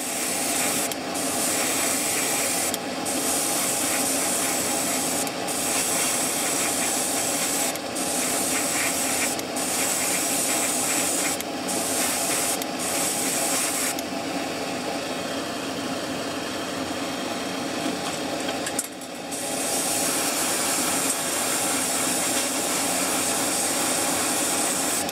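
Primer is sprayed onto an HGBF GM Gunpla model kit in a near, steady hiss. The hiss breaks into short pulses, then runs long and unbroken before a brief stop and restart.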